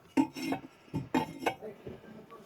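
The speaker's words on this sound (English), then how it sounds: "Inside the firebox place a charcoal grate." A metal charcoal grate set inside the firebox of a Kamado Bono Minimo Urban Edition grill, giving a few distinct metallic clanks and scrapes against ceramic, close and separated by short pauses.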